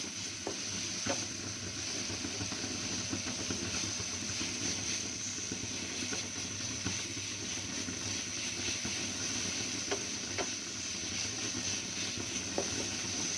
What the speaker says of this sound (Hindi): दो 3 मिनट हमने इस तरह मसाले को अच्छी तरह से भून लेना है।